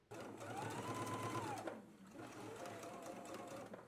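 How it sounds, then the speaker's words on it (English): A sewing machine runs steadily, stitching a sleeve placket close to the fabric edge from a small dot down to the lower edge, a continuous close motor whir with a brief dip in the middle. "stitch close to the edge from the small dot all the way down to the lower edge"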